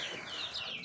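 Chickens and young chicks on a farm, giving soft clucks and high peeping chirps in a continuous, fairly quiet chorus with no talking.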